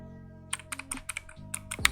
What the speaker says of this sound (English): listen to the keys